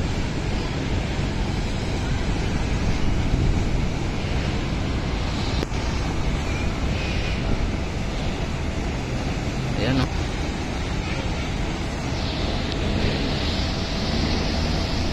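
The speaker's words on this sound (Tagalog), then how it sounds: "Yan po ang pumping station mga bayan, ano. Bumulwak, oh, grabe ang lalaki ng ang lakas." Water gushes hard out of a flood control pumping station near the Quezon Bridge and Esplanade, a steady broadband roar filling the scene without pause, loud and close, with someone speaking briefly over it.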